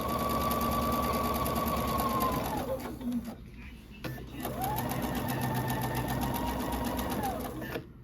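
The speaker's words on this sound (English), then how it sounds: "I'm going to do the perimeter stitching all the way around." A sewing machine runs steadily while stitching around the perimeter of a quilt, whirring loudly in a long run, pausing briefly, then running again; a voice speaks over it.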